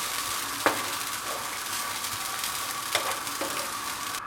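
Roasted gram and coconut frying on medium heat in a pan, a quiet continuous sizzle broken by a few light clicks of a spoon against the pan, with no voices.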